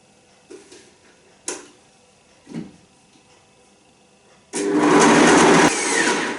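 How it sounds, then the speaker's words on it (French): A blender whirs loudly and steadily for the last two seconds, pureeing raw organic vegan cheese ingredients into a cream, after a few soft taps and knocks. "Et je vais les mixer pour obtenir une crème."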